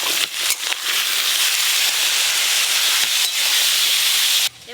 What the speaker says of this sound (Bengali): কালো জিরে ফোড়ন করে নিয়েছি, এবার কেটে ধুয়ে রাখা আলুগুলো দিয়ে দেব